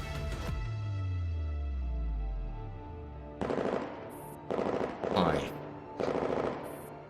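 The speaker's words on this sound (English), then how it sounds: "Gunfire erupts again." Bursts of automatic gunfire in the video game Girl's Frontline, several loud rattling volleys in quick succession after a low droning musical swell, with no speech.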